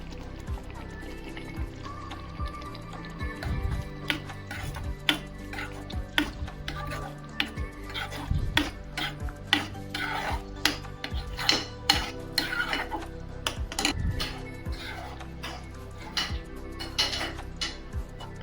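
Ground paste is stirred into cooked beetroot for a kichadi, producing continuous wet, sloppy churning with repeated spoon scrapes and knocks against the pot, close and moderately quiet, with no voices.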